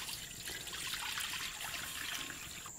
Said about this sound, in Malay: Masukkan air sebab nak rebus dulu jantung.